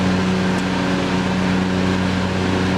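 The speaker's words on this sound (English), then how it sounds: "there's my dad mowing" A lawn mower engine runs at a constant drone, steady and unbroken throughout, with a dense even hum and no change in pitch or loudness.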